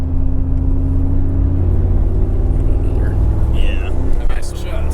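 A 500 HP Mercedes G Wagon AMG accelerates with a steady, heavy low engine rumble and road roar heard from inside the cabin, holding constant throughout.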